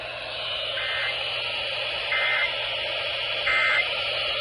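EAS emergency alert tones from a radio station ring out loud and steady, with three short, brighter bursts repeating at even intervals over the continuous tone.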